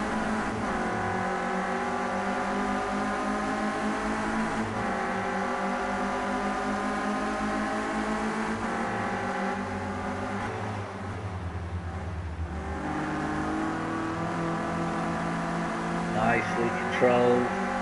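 A Renault Clio Cup race car engine drones at high revs from a bumper-mounted on-board camera at Oulton Park, holding a steady tone, then dipping briefly and shifting pitch as it climbs again.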